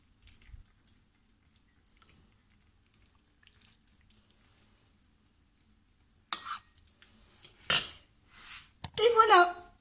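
Metal cutlery scrapes and clinks against a plate as rice and meat are served, sparse soft scraping giving way to a few louder, close clattering strokes near the end.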